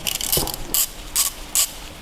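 Ratchet wrench with an E14 socket working tight alternator bolts on an engine out of the car: four quick, close bursts of ratcheting clicks in a steady back-and-forth rhythm, loud and clear with no talk.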